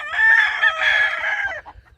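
Poultry yard with hens and a spangled Wheaten rooster, a loud nearby crow-like call carried steadily for over a second and a half, then fading into softer clucks.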